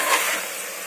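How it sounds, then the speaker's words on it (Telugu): Washed country chicken dropped into hot oil in a pan, a loud close burst of sizzling that eases slightly while staying steady through the short moment. "3-4 సార్లు కడిగి పెట్టిన జుట్టుకోడిని శుభ్రంగా కడిగి ఇందులో ఆయిల్లో వేస్తున్నాను"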